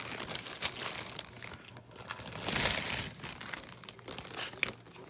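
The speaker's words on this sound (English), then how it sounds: "Let me get the bag off of" A plastic bag is pulled off a new DeWalt 20V half-inch brushless impact wrench, giving close, continuous crinkling and crumpling with a louder rustling surge midway and no speech.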